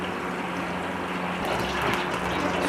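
Cooking oil poured into a metal pot for butt curry, a steady soft liquid wash that swells slightly toward the end, close and continuous with no talk.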